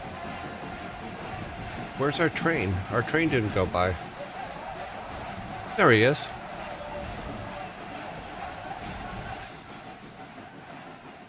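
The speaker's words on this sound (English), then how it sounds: "Where's our train? Our train didn't go by." A train rumbles steadily in the background for the full length, low and continuous, while a person speaks over it and a brief voice rises near the middle.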